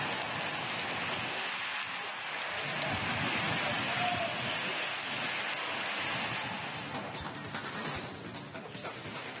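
Heavy rain pours down across Mysuru district, a dense, continuous roaring hiss of downpour on surfaces that holds steady and loud throughout, easing slightly toward the end.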